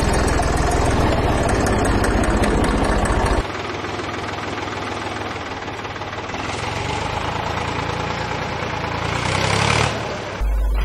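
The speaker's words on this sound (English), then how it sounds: "Here, the tractor is pulling to the left." A tractor engine runs steadily up close as the tractor pulls to the left under uneven drum brakes, a loud rumbling drone that shifts in tone partway through and keeps chugging throughout.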